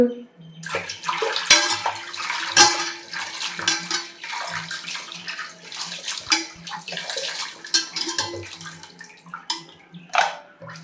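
Water splashes and sloshes as dried anchovies are rinsed in a basin, with irregular splashes and clinks of a vessel, close by.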